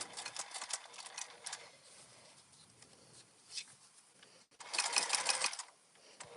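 A sewing machine stitches a seam, running in quick bursts of rapid ticking needle strokes, pausing and slowing between them, then a louder, faster run near the end, close and fairly quiet.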